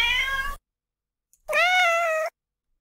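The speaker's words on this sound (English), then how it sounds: "I have two audio examples of meowing" A domestic cat gives two clear, loud meows, a short one followed by a longer drawn-out call after a brief silence, heard alone and close.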